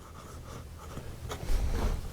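Jinhao 51A fountain pen with a wet, smooth #5 nib scratching lightly across paper, a faint papery rasp of short strokes with a brief louder scrape near the end.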